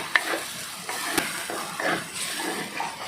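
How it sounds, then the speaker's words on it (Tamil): Chilli powder sautéing in hot oil in a pan while being stirred, giving a close, steady sizzle with soft scraping strokes and a small clink, brief and without speech. "ஒரு நிமிஷம் வந்து இந்த எண்ணெயில் இந்த மிளகாத்தூள் எல்லாமே நல்லா வதங்கணும்"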